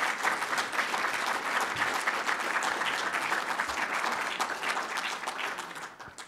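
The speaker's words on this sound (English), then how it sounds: "And I and everyone in this room applauds you for doing so." Applause fills a room at the Paley Center, a dense, sustained clapping from many people that stays strong for several seconds before tapering slightly at the end.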